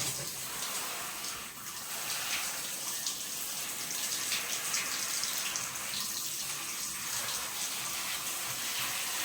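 Water splashes and pours steadily over a dog being bathed, a continuous rushing wash like a running tap with no breaks, close and fairly quiet.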